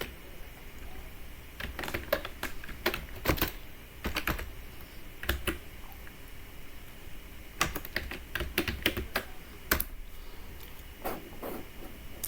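Keys clatter on a computer keyboard in irregular bursts of quick taps with short pauses between them, close and fairly quiet, with no speech.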